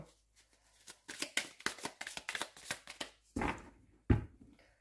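Oracle deck cards being cut and riffled by hand in a card-reading session: a quick run of crisp, close flicking card snaps, followed by a couple of louder slaps as the deck is squared.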